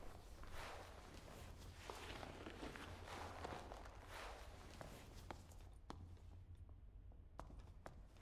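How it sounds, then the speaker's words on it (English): Footsteps sound nearby in the dungeon game Dark and Darker, quiet and steady over rough ambience. Sharper single taps and thuds follow as the steps fade. "So we hear some footsteps near us, but we're not quite sure where they are."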